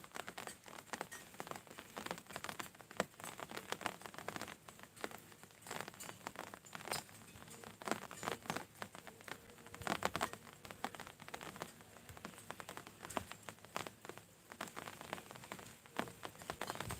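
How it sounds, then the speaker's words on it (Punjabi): Steady first monsoon rain patters on surfaces, a dense, continuous crackle of drops with no voices. "ਅੱਜ ਸੌਣ ਮਹੀਨੇ ਦੀ ਪਹਿਲੀ ਬਰਸਾਤ ਆ"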